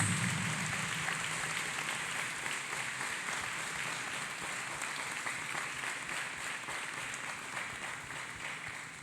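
A church congregation claps hands in a continuous, fairly even patter of many palms, steady and moderately loud for the whole stretch with no talk over it.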